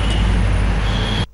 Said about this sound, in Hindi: गाड़ी ऐसे सर्राटे से भगा कर ले जा रहे हैं